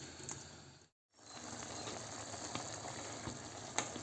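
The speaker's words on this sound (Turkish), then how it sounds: "Şöyle suyunu çekene kadar böyle ocakta iyice kaynatalım." Liver boiling in water in a pot on a stovetop, a steady soft bubbling and sizzling hiss that runs throughout, broken by a brief silent gap near the start.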